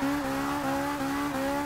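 Steady engine drone of a 2012 Nissan GT-R in Forza 6, with a harmonic tone rising and dropping in repeated surges about every 0.4 seconds as the open-diff car's left tire spins at launch, loud and close, no talking.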